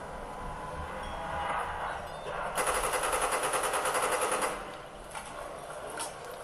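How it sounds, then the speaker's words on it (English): Rapid machine-gun fire in a zombies-mode video game, a dense burst of evenly spaced shots lasting about two seconds over steady game ambience, with faint scattered pops before and after. "You got yourself a machine gun."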